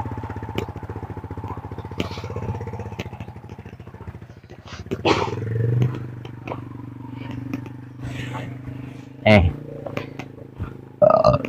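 A motorcycle labours up a steep rural footpath in the hamlet of Dusun Diambu, Huyula village, its engine droning steadily and rising in bursts close by, while people talk over it.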